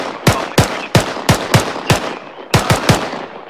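Rapid close gunfire in Arma 3: nine loud sharp shots, first at a steady pace, then a quicker burst of three after a short pause.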